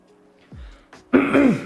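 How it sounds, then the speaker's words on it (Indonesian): A single sharp cough close to the microphone, preceded by a quick intake of breath, then silence. "Batuk beneran."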